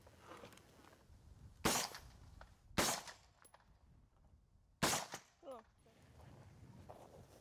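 Rifle shots fired outdoors at a home, three loud sharp cracks spaced irregularly with short echoing tails, separated by quieter handling sounds.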